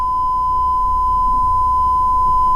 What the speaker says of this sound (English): so sensors are beeping